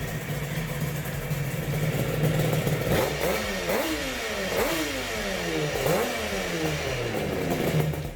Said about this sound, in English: It has been a while since I've shown a two-stroke motorcycle on this channel.